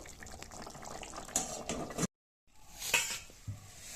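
Curry simmering in a pot on the stove, a soft bubbling hiss with a few light clinks, broken by a brief silence before the bubbling resumes.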